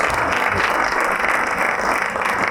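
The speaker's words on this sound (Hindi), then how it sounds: "तालियां, जबरदस्त जी" A studio audience at a Ramadan quiz show breaks into dense, steady applause, a continuous wash of many hands clapping together.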